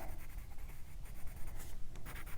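Soft, steady scratching of a watercolor pencil shading across paper, close and quiet, with a slightly rough texture.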